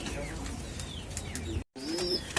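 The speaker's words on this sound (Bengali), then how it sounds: "সিলেটি মাদি কবুতর 1500 টাকা।" An adult female Sylheti pigeon coos softly at close range, a few short gurgling calls separated by pauses, with faint chirps and a brief dropout in the background.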